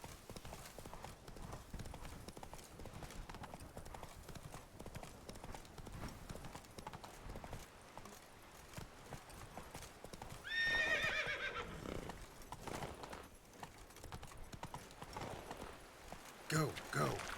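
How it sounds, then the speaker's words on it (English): The horse Roach in The Witcher 3 video game, hooves clip-clopping in a steady rhythm with a clear whinny partway through, while a player talks over the game sounds. "Come on, Roach. You look good with this saddle."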